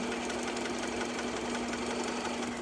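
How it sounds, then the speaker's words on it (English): A household sewing machine runs continuously while stitching a quarter-inch shoulder seam on a baby's dress, giving a steady, fast mechanical whir with an even hum throughout and no talking. "I'm showing you on the sewing machine because most people just have a sewing machine"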